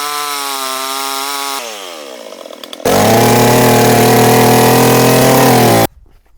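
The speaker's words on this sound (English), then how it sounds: "Chainsaw." A chainsaw used as small-scale organic farming equipment runs loud and close, revving in steady sustained bursts with a brief drop in pitch between them, then cuts off abruptly.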